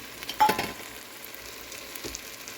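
Jaffna curry powder being stirred into fried soya meat in a pan: a soft, fairly faint sizzle with a brief louder scrape of stirring near the start, no voices.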